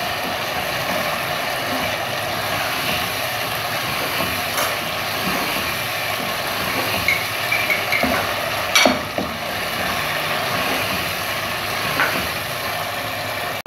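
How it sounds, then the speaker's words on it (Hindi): Minced meat (keema), which may be beef, mutton or chicken, frying in a pan with a broad, steady sizzle throughout and a few sharper scrapes of stirring; no talking. "अब हम कीमे को भूनेंगे अच्छे से।"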